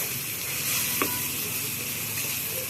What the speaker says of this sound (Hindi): तमाम मसाले डालने के बाद इसे प्याज के साथ हम भून लेंगे।